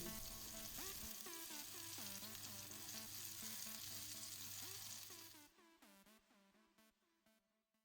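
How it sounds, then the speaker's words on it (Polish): Fish sizzles steadily in hot oil in a pan, being fried until golden for Greek-style fish for Christmas Eve. The dense frying hiss runs continuously and close, then softens and thins over the last couple of seconds. "Na patelnię wlewam olej, podgrzewam i wstawiam rybę do smażenia."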